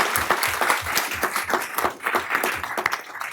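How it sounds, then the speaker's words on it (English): An audience at a city council meeting gives sustained applause for student winners, dense clapping from many hands filling the room at a steady level. "Can we give them all a round of applause before we come down?"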